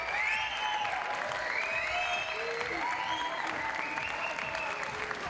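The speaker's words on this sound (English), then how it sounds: "let's give it a big round of applause" A climbing festival crowd applauds as bouldering finalists arrive, steady continuous clapping with cheering that runs throughout while commentators talk over it.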